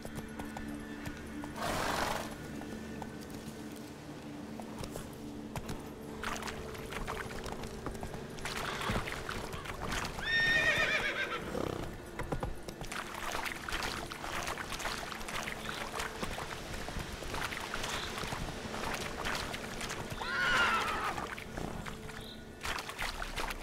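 Horse in The Witcher 3 video game, clip-clopping hooves at a steady pace with two clear neighs/whinnies breaking through, moderately near, under ambient game sound without speech.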